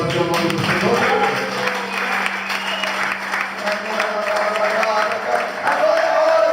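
A church congregation applauds together, a dense sustained clapping crowd with voices mixed in and a tonal hum underneath, loud and close throughout.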